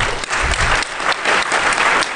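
An audience at a talk on Chinese security claps loudly and steadily, dense applause filling the moment with no voices over it.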